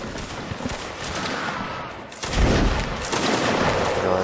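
Musket volleys in the Napoleonic Wars mod of Mount and Blade Warband, a dense crackle of overlapping gunfire that swells into a louder, heavier burst midway and stays thick and continuous.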